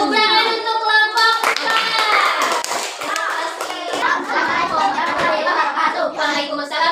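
A classroom group in an Islamic religious education lesson gets a round of applause, steady hand clapping lasting throughout with children's voices and chatter mixed in.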